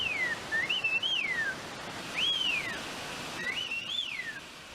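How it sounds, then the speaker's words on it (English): Three separate phrases of Chinantec whistled speech from Chiapán, Mexico, each a gliding, wavering high tone with pauses between, over a soft outdoor background hiss. "The elder men can carry on conversations in whistled speech."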